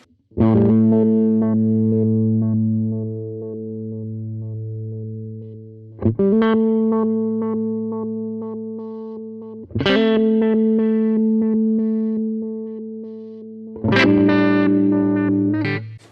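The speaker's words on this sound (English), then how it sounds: "Step filter, this is kind of like a slicer, I suppose." Electric guitar chords pass through an AmpliTube 5 step filter slicer effect, sustaining with a pulsing, choppy texture; four struck chords, loud and close, with no voices.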